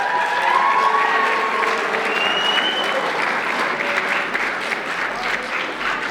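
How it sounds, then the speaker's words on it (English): An audience at a high school Shakespeare monologue competition applauds steadily throughout, a dense, close wash of clapping that holds at an even level from start to finish with no voices standing out. "Please give him a big round of applause."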